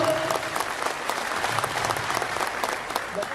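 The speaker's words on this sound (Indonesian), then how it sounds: "Saya ingin aplaus yang meriah untuk Cicendo semuanya." Audience applause at an indoor capacity-building event, dense sustained clapping from many hands, loud and continuous throughout.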